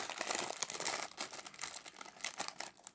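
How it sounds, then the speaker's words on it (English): Crinkly LEGO plastic bags are handled close by, making soft, continuous crackling and rustling with small irregular bursts throughout. "Save you the crinkly bags"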